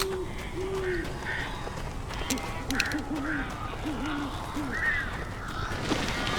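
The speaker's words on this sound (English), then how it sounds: "These birds are weird." Crows caw repeatedly in the video game Alan Wake, giving short, scattered calls at mid distance over a constant rushing ambient bed.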